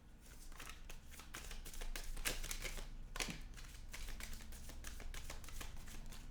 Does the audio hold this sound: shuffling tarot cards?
yes